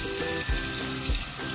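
Banana flower chops sizzle and fry in oil over a low flame, a steady close crackle with a couple of soft low thumps, no one speaking.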